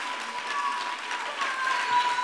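Church congregation claps and cheers in praise, a dense wash of applause sustained for a couple of seconds at moderate loudness.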